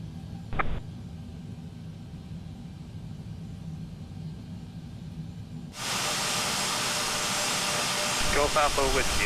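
Airbus A321 jet engines spool up for takeoff in Microsoft Flight Simulator, a quiet rumble giving way to a sudden loud, steady roaring hiss that holds to the end, with radio-style speech nearby.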